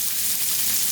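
Salt fish, salted pollock or cod, frying in hot oil in a pan, giving a steady, dense sizzle that stays even and close throughout with no voices.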